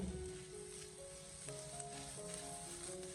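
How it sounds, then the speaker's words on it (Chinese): Green chili peppers stir-fried in a wok, blistering as they cook: a steady, close sizzle with scraping and clinks from stirring, continuous throughout with no voices. "我们将辣椒给它持续的煸炒个大概3分钟左右"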